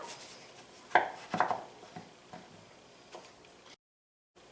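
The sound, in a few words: knife cutting potato in half lengthwise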